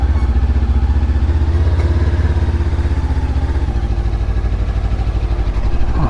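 A Lifan KPT 400 motorcycle fitted with a 43-tooth rear sprocket drones steadily while being ridden on a hot day, its engine a continuous loud, close rumble with faint clatter and wind throughout, no talking.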